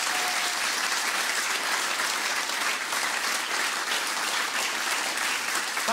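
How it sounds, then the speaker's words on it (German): Loud, sustained audience applause at a comedy show, welcoming a comedian onto the stage; dense, even clapping fills the whole stretch without pause. "Jetzt einen großen Applaus für meine kleine Neffe, Sonny"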